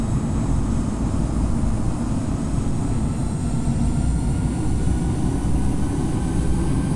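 Boeing 747-800 jet engines in Infinite Flight roar steadily and loudly throughout a hard takeoff from short runway 31R at Palm Springs, a constant broadband rumble with no voices.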